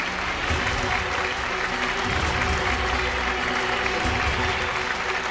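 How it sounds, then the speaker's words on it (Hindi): Loud, sustained applause from a large crowd, dense clapping filling the whole stretch without a break. "जोरदार तालियां।"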